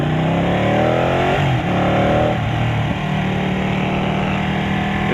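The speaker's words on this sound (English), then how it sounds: "The bike sounds really good already. Has a better exhaust note than the Monster 1200 I rode." A 2015 Ducati 899 Panigale engine revs loudly up close, its pitch climbing in a rising sweep, dropping back, then settling into a steady throbbing idle.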